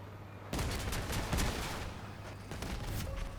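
Gunfire in the vehicle combat game Crossout erupts abruptly and rattles on as a heavy, continuous volley for a few seconds.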